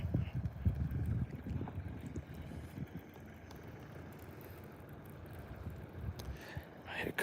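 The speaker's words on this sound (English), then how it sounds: "Here comes some wind." Wind gusts across a lake during bass fishing, a broad low rumble that is strongest at the start and then settles into a steady hiss, with a brief rustle near the end.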